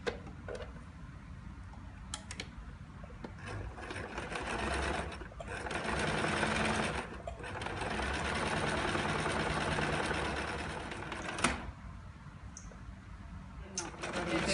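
Sewing machine stitching through fabric in steady runs, with short pauses and resumptions between bursts of its close, even whirring drone.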